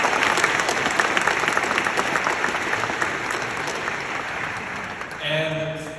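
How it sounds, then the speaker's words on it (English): Applause from the audience at a medical school white coat ceremony, dense continuous clapping from a large crowd that stays loud, then fades out as a voice begins over an amplified sound system. "the least we can do is have a round of applause"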